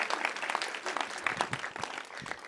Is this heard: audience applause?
yes